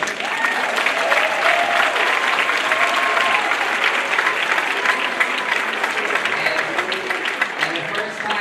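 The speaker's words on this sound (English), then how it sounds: "let's give them a round of applause" An audience applauds the school chorus at the Silas Wood 2022 winter concert, an orchestra and choral collaboration. Dense, steady clapping fills the hall for about eight seconds, with a few voices mixed in.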